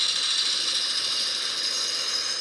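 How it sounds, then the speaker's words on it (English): Jackhammer sound effect from a phone app, a steady continuous mechanical rattling hammering that runs loud and unbroken for the whole stretch with no talk. "Jackhammer."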